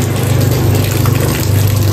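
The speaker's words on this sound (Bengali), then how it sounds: "কষ্ট করে পানি ভরতে হয়" Water is pumped and gushes steadily into a container, filling it with a continuous, loud, close rush and a low pump hum throughout, with no voices.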